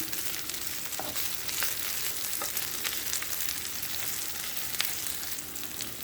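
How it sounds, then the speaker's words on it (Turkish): Steady, dense sizzling of doner meat frying in a hot pan with a little butter, with faint clinks and stirring scrapes now and then; close and continuous, no talking. "Böyle biraz daha kavuracağım."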